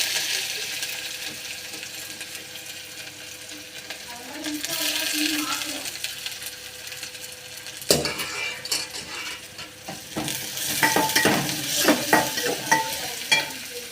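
Mustard seeds, ginger, garlic and onion fry and stir in a pan while a drumstick-leaf soup is prepared, giving a steady sizzle with clinks and scraping of a spoon against the pan that grow busier toward the end, with no talk.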